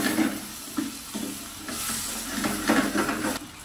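Baby corns being stirred into red curry chicken in a pan, a soft wet scraping and sloshing that repeats in short pulses over a low simmering sizzle, close and moderately loud with no talking.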